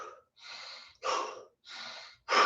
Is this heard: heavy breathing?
yes